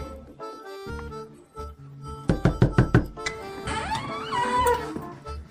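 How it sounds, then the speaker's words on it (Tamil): Someone knocks on a door in a Christmas comedy skit. There is a quick run of five or six sharp raps in the middle, heard over background music. "யாருப்பா அது சும்மா கதவை தட்டிட்டு இருக்கிறது?"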